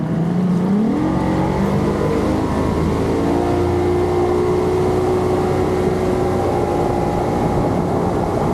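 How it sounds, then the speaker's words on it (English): A loud motorboat engine revs up on clear open water, its pitch rising quickly and then holding a steady high drone, with water rushing close by. "Hit the gas, Jason."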